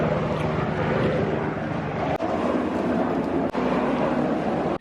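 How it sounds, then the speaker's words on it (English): A helicopter flies low overhead outdoors, a loud continuous engine and rotor roar that stays strong and steady throughout, broken only by a couple of brief clicks. "Oh wow, there's a helicopter really low."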